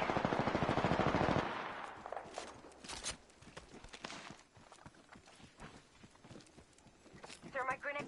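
Rapid automatic weapon fire in Apex Legends season 8, a loud burst of evenly spaced shots at the start, then scattered fainter shots and game sounds, with voice lines spoken over it.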